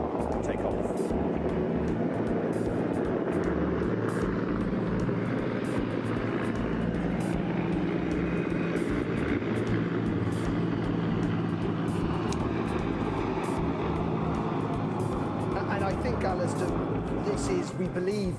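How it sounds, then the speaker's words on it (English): Helicopter lifting off during a hostage release near Gaza, its steady broadband engine and rotor rumble running continuously at moderate loudness under an ongoing news commentary voice. "as we watch the second helicopter take off"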